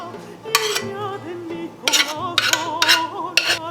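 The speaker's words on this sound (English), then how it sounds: "So you're gonna add the mash here to the onions." Mashed potato going into onions in a pan: metal utensil clinks and scrapes against cookware in several sharp bursts, with quieter scraping and tonal background sounds in between.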